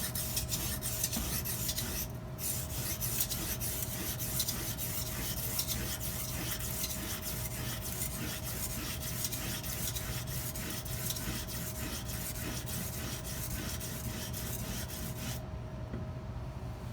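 A chef's knife drawn steadily across an Edge Pro sharpening stone while thinning the blade, giving a continuous close rasping scrape with a faint steady hum underneath and no voices.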